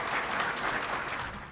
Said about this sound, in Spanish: Vamos a darle un fuerte aplauso al doctor Israel Sánchez.